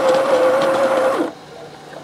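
A Baratza burr coffee grinder grinds beans to an espresso-fine powder, making a loud, steady whirring hum for just over a second before it cuts off and a quieter background remains.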